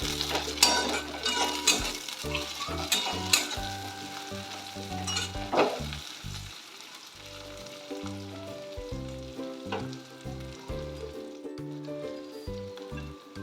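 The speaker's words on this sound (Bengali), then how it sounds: "রসুন দিয়ে 2-3 মিনিট ভাজার পর আমি এর মধ্যে দিয়ে দিচ্ছি টমেটো।" Garlic and tomato fry in a pan for a cauliflower masala curry, crackling and sizzling, with spatula scrapes and a pan knock early on. Steady background music plays underneath.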